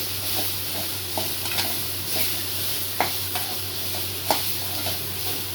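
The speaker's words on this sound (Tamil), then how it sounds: "ஒரு நிமிஷம் வதக்கலாம்." Steady sizzling of bitter gourd frying in a pan with chilli and coriander powder, with occasional soft scrapes and clinks as it is stirred. No talking.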